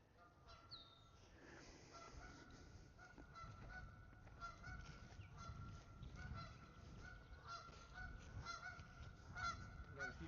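Several geese honk repeatedly at a moderate distance beside big agricultural fields, their calls overlapping in an irregular chorus over faint outdoor ambience.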